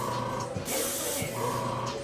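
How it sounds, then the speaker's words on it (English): Barbershop airbrush spraying enhancement color lightly onto a haircut lineup, a close, steady hiss with several short bursts and pauses, the compressor hum running underneath. "we're going to grab our airbrush with our enhancement card"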